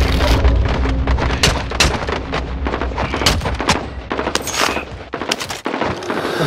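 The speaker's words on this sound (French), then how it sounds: "Je me fais tirer dessus!" Rapid bursts of gunfire in Call of Duty Warzone crackle loudly and almost continuously, dense automatic fire with heavy low booms layered throughout.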